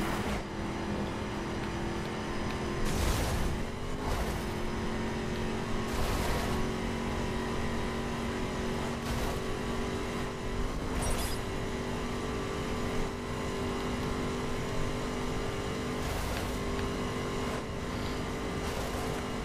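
Circa GT car driven in The Crew racing game, a steady engine drone holding a sustained tone throughout, with occasional brief bursts of impact or skid noise layered over the continuous hum.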